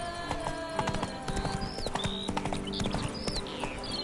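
Hoofbeats of Roach, Geralt's horse in the video game The Witcher 3, clip-clopping in a steady, close, rhythmic trot that continues throughout, with faint background game ambience.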